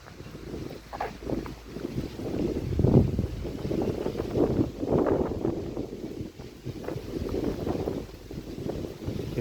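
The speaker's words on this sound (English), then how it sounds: "Here is the pretty strong wind." Strong wind gusting outdoors while walking through a Soviet-era residential quarter in Central Asia, a constant rumbling buffeting on the microphone that swells and eases in gusts, with no one speaking.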